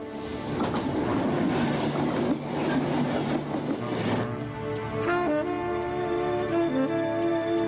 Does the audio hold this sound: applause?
no